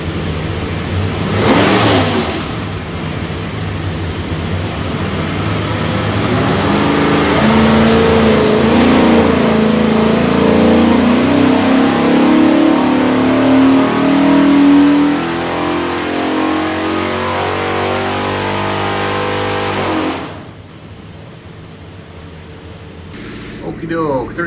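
Ford 408 Windsor V8 with a Victor Jr. intake, built for a '65 Mustang, roars on a dyno, the revs climbing in a loud, sustained sweep for about twenty seconds before dropping off abruptly; voices are heard under the engine.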